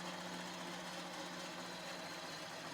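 A JUKI sewing machine stitches fabric for a reverse appliqué pillow cover, giving a steady, faint mechanical hum with a fast even needle rhythm. The machine runs alone with no talk.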